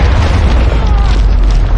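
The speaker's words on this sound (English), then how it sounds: "With just one shot, the enemies were destroyed in a massive explosion." A loud, sustained explosive boom roars with dense low rumble, filling the whole moment without any pause.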